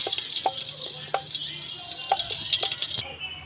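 Ghee heating in a pan before semolina goes in, a steady high fizzing sizzle with scattered clicks and taps, close and continuous until it briefly thins near the end.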